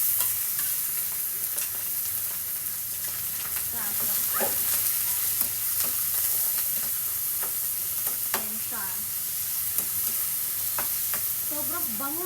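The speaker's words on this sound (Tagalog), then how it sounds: "habang luto na yung bawang, maglagay na tayo ng itong giniling natin" Ground meat sautés with garlic in a pan, a constant close sizzle broken by scraping stirs and small pops, with a voice speaking briefly over it.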